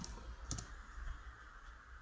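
Computer mouse clicks while working in a spreadsheet: a couple of quick, soft, close clicks near the start over a quiet room hum, with no one talking.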